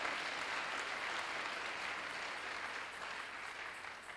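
A church congregation claps in sustained, fairly faint applause heard from a distance, steady throughout and slowly fading toward the end.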